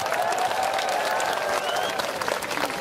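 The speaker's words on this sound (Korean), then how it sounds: "자, 박수 한번 주시기 바랍니다. 박수!" A concert crowd applauds a hip-hop stage act at an outdoor military-related event, with steady dense clapping throughout, some cheering voices, and a faint sustained musical tone underneath.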